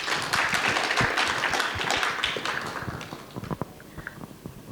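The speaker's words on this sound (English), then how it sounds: "So I think it deserves a huge round of applause." A seated audience at a book event for a war story claps in a dense, steady burst of applause that starts loud and thins out toward the end, with a few scattered individual claps standing out.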